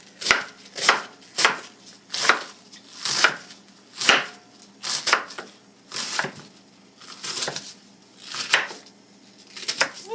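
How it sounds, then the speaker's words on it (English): A knife chops through cabbage on a cutting board in about fourteen distinct strokes, each a crisp crunching thud in a fairly even rhythm, close and clear with no talking. "I'm just going to cut up some of the cabbage."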